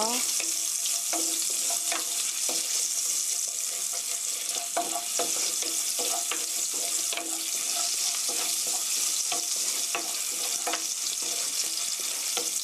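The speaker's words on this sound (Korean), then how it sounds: "여기에 아까 썰어 놓은 마늘, 양파 조금 넣어서 향을 내주세요." Garlic and onion frying over medium heat in a pan for chicken tteokbokki, a dense, continuous sizzle with scattered crackles and pops holding steady throughout.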